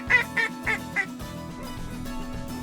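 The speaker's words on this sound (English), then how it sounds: "That's a mallard drake right there in the front." Mallard ducks quack in four loud, separate bursts in the first second, then fade to a steady wash of softer background flock noise with no clear calls.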